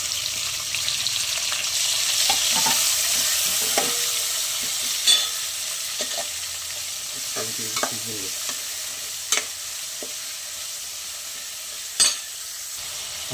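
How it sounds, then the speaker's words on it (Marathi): Garlic, tomato and chili frying in a pan give a steady sizzle throughout, with occasional spoon clinks and stirring scrapes, close and without talk. "लसूण पूर्णपणे शिजवून घेऊया टॅमॅटो मिरची"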